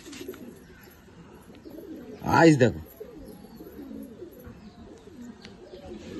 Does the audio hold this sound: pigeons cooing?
yes